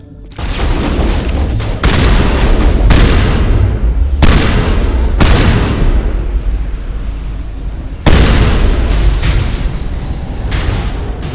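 Heavy, loud gunfire fills a video game shootout, with dense sustained volleys close up that break off and restart several times.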